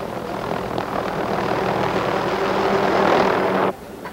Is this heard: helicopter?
yes